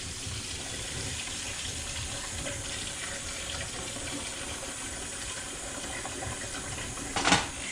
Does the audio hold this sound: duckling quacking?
no